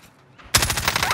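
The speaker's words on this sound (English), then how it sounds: "People shooting behind you, Jay." Rapid automatic gunfire from a Call of Duty: Warzone match starts abruptly after a quiet lead-in, a loud, dense burst of evenly spaced shots continuing to the end.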